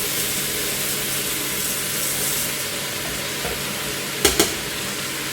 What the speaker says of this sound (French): je vais verser mes lentilles